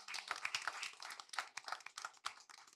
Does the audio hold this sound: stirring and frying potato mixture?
no